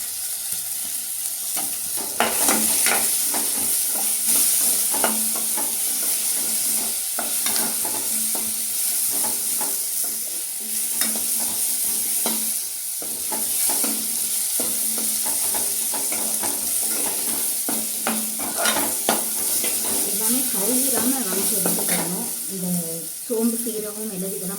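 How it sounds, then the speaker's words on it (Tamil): Cumin and pepper being sautéed in oil in a pan with stirring: a steady sizzle continues throughout, with frequent scraping and stirring clicks, and voices are faint in the background. "சீரகம் மிளகு இதெல்லாம் வந்து கரிஞ்சு போயிடாமல் பார்த்து அதை கவனமாக பார்த்து வதக்கி எடுத்துக்கோங்க"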